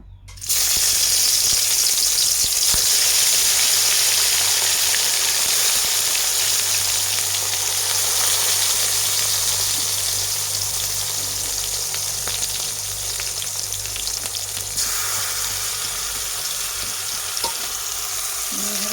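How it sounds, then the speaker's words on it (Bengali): Eggplant pieces fry in hot oil over a lowered gas flame, giving a loud, steady, close sizzle that holds across the whole stretch and eases off only slightly toward the end, with no talking. "তেল গরম হয়ে গেছে, এখন আমি একে একে বেগুনটা ছেড়ে দেবো"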